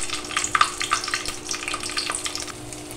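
Dried and green chillies with spices fry in a pan, giving a dense crackling sizzle with scattered pops and light stirring scrapes throughout.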